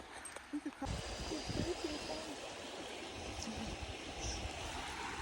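A river flows along a hiking trail with a steady, broad rushing wash that continues throughout, close by and fairly loud, with a few brief low thumps near the start.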